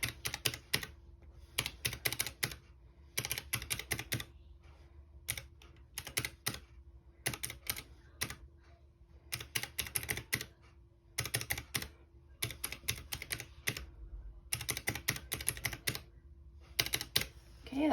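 Calculator keys pressed while adding up budget numbers, bursts of rapid close-up clicky taps separated by brief pauses, repeating in irregular clusters with a faint steady hum beneath.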